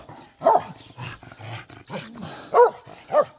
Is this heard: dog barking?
yes